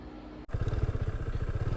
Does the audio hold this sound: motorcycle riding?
yes